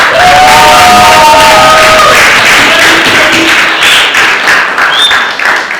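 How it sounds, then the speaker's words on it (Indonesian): A school audience of students and parents breaks into loud, sustained applause and cheering after a class presentation, with shouting voices and whistles mixed into the dense clapping. "Saya minta untuk beri aplaus sekali lagi"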